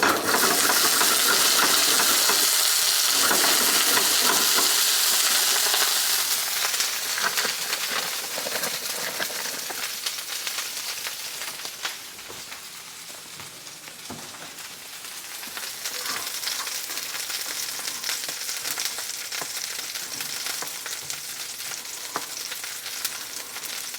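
Food browns in a hot pan with a loud, steady sizzle and fry that gradually softens, crackling and popping throughout with faint clinks, close and with no talking.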